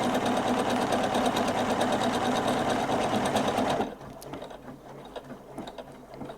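A Husqvarna Viking Jade 35 sewing machine stitches a buttonhole with a loud, steady, rapid mechanical whir that runs continuously, then stops abruptly, leaving quiet room tone and faint clicks.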